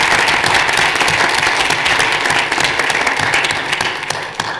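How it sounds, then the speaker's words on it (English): Attendees at a school board of education meeting give honored high school students a loud round of applause, dense clapping that tapers off toward the end. "So if we can give Jesse and Lillian a round of applause."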